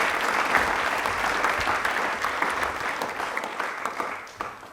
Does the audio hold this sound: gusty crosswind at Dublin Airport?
no